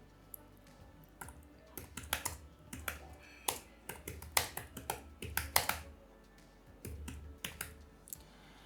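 Keys on a computer keyboard tapped in quick, uneven bursts as a title is typed into a PowerPoint slide, the crisp clicks close and clear over a quiet background, with no speech.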